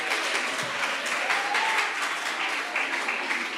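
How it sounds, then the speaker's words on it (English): Attendees at a South African higher education dialogue give a sustained round of applause, even dense clapping filling the hall for several seconds. "Maybe just give yourself a round of applause."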